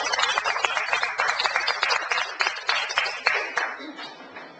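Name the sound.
clapping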